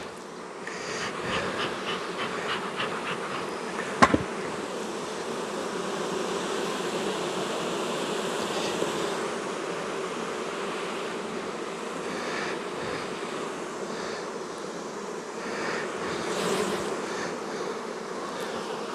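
Honey bees buzzing around an open beehive during a beekeeping hive inspection, a steady dense drone that carries on throughout, with one brief sharp knock partway through.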